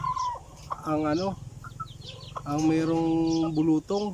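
Backyard chicks suffering from fowl pox peep and cheep with high chirps, mixed with clucking fowl calls, under steady nearby talk.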